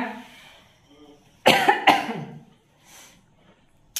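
Two sharp, close coughs in quick succession, followed by quiet breathing and a faint throat sound.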